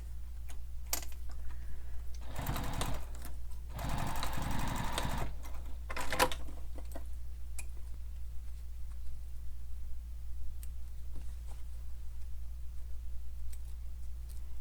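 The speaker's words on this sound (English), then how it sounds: "Now we're going to baste the webbing in place." Sewing machine basting webbing onto a strap in short bursts, with several quick stitching runs of a second or two separated by quieter pauses and small clicks, close and clear over a low steady hum.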